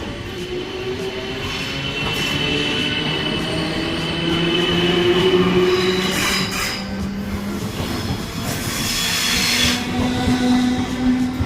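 Class 456 electric train departing Raynes Park station on the South Western Main Line, a steady rising rumble of wheels with squealing tonal whines and rail clatter, heard close and continuous with no talk.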